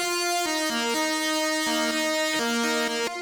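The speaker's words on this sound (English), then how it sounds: "And then I have a synth backing it up." A saw-wave synth backs a distorted jazz guitar preset, playing a short sequence of sustained, buzzy notes that step between pitches, clear and alone without any voices.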